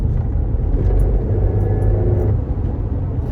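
A car with a freshly repaired transmission drives along, its engine and road rumble loud and steady, close up, with no voices.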